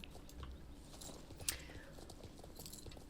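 Horse hooves clip-clopping faintly in the Star Stable video game as a Selle Français horse appears, a soft rhythmic patter over a low, quiet ambient background.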